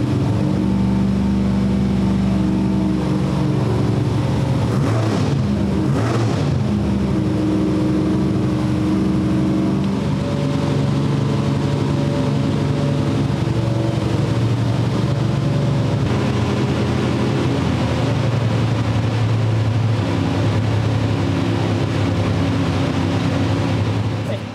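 An old-school small block Chevy V8 with 8 stack injection, built for a Fiat drag car, idles steadily with a loud, continuous low rumble that holds for the whole stretch.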